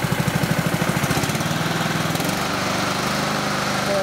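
A new piece of small-engine lawn equipment idles nearby, a loud, steady rapid putter whose beat shifts slightly midway before holding even, with no voices.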